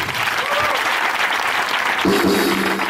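A church congregation applauding, a dense continuous patter of many hands clapping at close range, with a voice briefly rising over it near the end.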